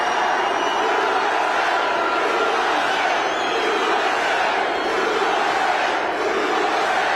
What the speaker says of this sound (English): As you can hear, the crowd is yelling USA, USA over and over again